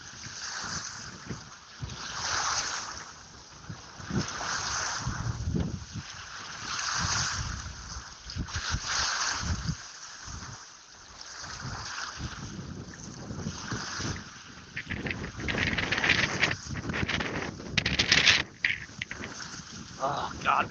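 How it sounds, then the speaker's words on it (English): Wind buffets the microphone in a steady roar over lapping waves along a shoreline at a fishing spot, with loud gusts swelling and fading across the whole stretch and no clear talk. "That's maybe the wind beating the waves against the shoreline that I hear."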